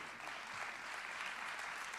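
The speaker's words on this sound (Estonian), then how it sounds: "Järelikult tuleb teha Kindluse koolile veel üks vägev aplaus" Steady applause from an audience at a Rae parish anniversary celebration, honouring Kindluse school; dense, even clapping fills the whole two seconds without breaks.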